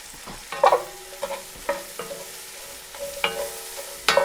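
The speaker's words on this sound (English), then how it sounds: "Next, I'm going to add a medium diced onion and a package of diced shiitakes." Diced onion and shiitake mushrooms sizzling in a Le Creuset enameled Dutch oven on a stovetop, with steady frying hiss and a series of sharp scraping knocks from stirring, close and fairly loud, with no talking.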